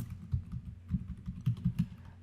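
Typing on a computer keyboard during coding, quick soft key taps in an irregular rhythm, close and quiet, with no voice.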